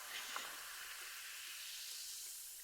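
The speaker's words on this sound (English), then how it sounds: "That soda poppy sound, sizzly sound, so good." Steady fizzing hiss of carbonated soda, a continuous bright crackle of bubbles holding at an even, fairly quiet level throughout with no voices.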